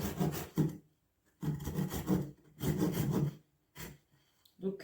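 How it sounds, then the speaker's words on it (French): A small green wood stick being sawn by hand, heard as close rasping bursts of strokes separated by short pauses, each burst a rough back-and-forth scrape. "Mais de scier un petit peu pour pouvoir ensuite dégager le bois"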